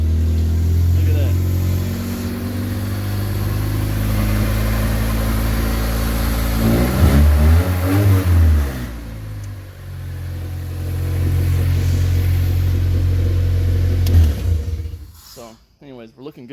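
A K20A2-swapped Acura Integra engine runs loud and close, holding a steady rumbling idle, then revving up and down in a few swells before settling and cutting off near the end, with some talk over it.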